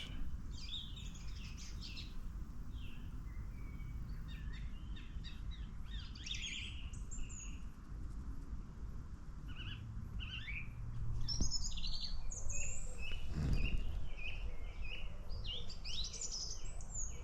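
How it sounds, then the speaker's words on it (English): Birds chirp and tweet before dawn during a bikepacking ride, scattered calls and short song phrases over a steady low rumble of wind or distant noise, with no talking. "It's not morning yet, but I just listening to the birds."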